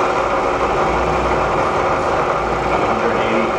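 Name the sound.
Bridgeport vertical milling machine running in low gear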